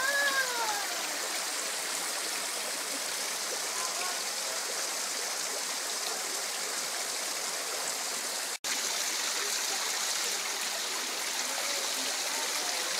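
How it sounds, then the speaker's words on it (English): Small waterfall at Maunawili Falls, a steady broadband rush of falling water that stays constant and fairly close, with no voices over it. "Why don't you go get under that cool little waterfall?"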